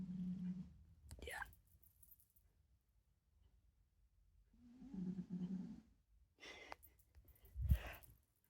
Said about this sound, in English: by the way, the dog's snoring.